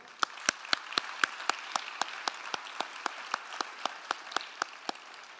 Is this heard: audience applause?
yes